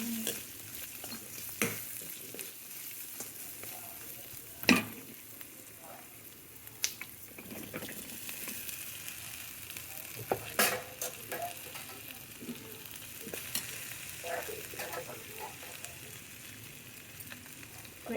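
Okra tempering fries in a pan with a low continuous sizzle, broken by repeated scrapes and clinks of a utensil stirring against the metal at irregular intervals, close and fairly quiet.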